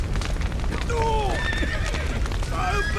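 Horses whinny and neigh several times in the video game The Witcher 3, over a low rumbling background, with hoofbeats and crackling noise throughout.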